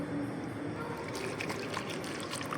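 Water from a glass pours into a herbal mixture, a steady close trickling and splashing that runs continuously without a break.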